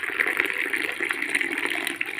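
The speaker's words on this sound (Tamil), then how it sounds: "இப்போ நான் வந்து கப்புக்கு மாற்ற போகிறேன். இங்கே பாருங்கள், இப்படி நல்லா தூக்கி ஊற்றணும்" Masala tea poured from a height into a cup, a steady continuous splashing gush of liquid lasting a couple of seconds, close and fairly loud with no talking.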